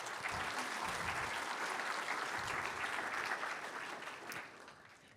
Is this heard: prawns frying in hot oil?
no